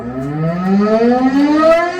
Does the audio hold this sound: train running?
no